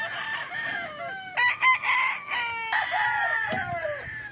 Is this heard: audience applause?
no